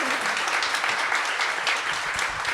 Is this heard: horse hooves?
no